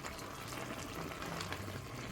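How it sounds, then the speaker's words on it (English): A pot of broth and collard greens at a steady rolling boil, dense bubbling and hissing, close and continuous. "you hear that boil?"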